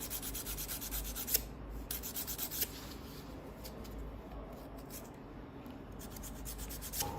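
A nail file sanding a fingernail, a quiet close rasping that comes in quick repeated strokes, with a few brief pauses and no talking.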